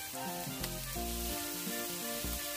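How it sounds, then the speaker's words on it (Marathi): Masala spiced with Kashmiri chili powder fries in a pan, a dense continuous sizzle heard close up and fairly quiet, with a few soft stirring scrapes and no voices. "आता आमचे हे मसाला बरे फ्राय झाला"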